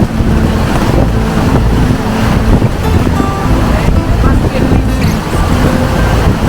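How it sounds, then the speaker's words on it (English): Large ocean waves in a gale at sea off Norway, a continuous loud roar of surf and wind buffeting close by, with faint voices briefly audible beneath it. "It's a good size of the waves."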